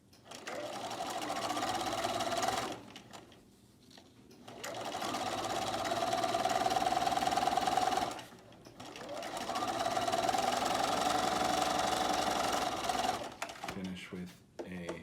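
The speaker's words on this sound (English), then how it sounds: "And then I will continue to sew all the way to the other end of the bias tape" A sewing machine stitching bias tape onto a fabric mask runs in three long steady whirring stretches, separated by short pauses.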